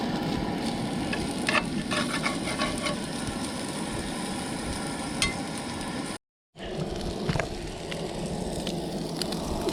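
Sausage and potatoes sizzle steadily in a single pan for a breakfast cooked outdoors at a park, a dense continuous fry with a few sharper crackles and one brief dropout partway through.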